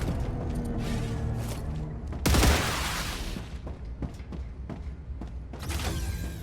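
Gunfire in a mechanical-deity shooter video game, a loud blast burst mid-clip and another volley near the end, with mechanical creaks and clicks between, no talk.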